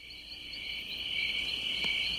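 A dense, continuous chorus of chirping insects hums loud and steady, a sustained high-pitched trill with no voices over it.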